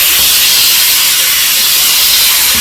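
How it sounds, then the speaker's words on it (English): A steam cleaner blasts tile grout with a loud, continuous, close-up hiss of escaping steam that never lets up. "Our steamer."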